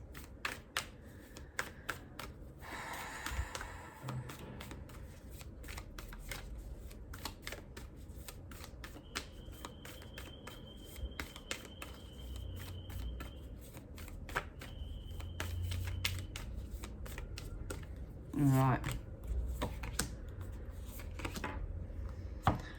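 Moonology oracle cards shuffled by hand in a quiet room, producing a long run of rapid close riffling taps and flicks, with a brief louder burst of shuffling near the end.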